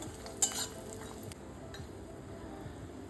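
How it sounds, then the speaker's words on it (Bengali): Bori (lentil dumplings) frying in oil for Bengali shukto: a steady soft sizzle throughout, with a sharp metal utensil clink near the start and light stirring scrapes. "এই একই তেলের মধ্যে কিন্তু আমি দিয়ে দিলাম বড়িগুলো। এগুলোকেও ভেজে নেব আমি।"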